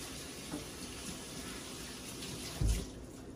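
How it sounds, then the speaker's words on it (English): Water runs steadily from a kitchen tap for hand washing during breakfast cooking, a soft continuous splashing hiss with a brief louder gush near the end. "I have to wash my hands."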